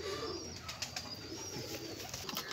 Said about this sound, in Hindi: ये वो पेयर है 67 नंबर जवाद भाई के ये कबूतर है